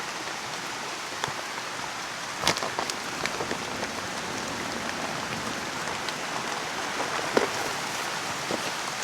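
Steady rain falls outdoors during a grouper fishing trip, a continuous dense hiss on the surface broken by a few sharper, closer drops, with no talking.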